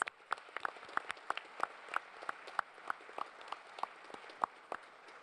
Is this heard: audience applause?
yes